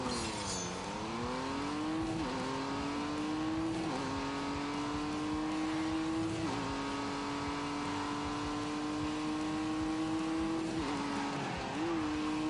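Fast car racing in The Grand Tour video game, a loud engine revving hard and holding high pitch, with several brief drops and climbs as gears shift, continuous and close with no talk.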